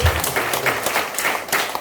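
A church congregation breaks into applause during a sermon, a continuous wash of many hands clapping that fills the room for a couple of seconds.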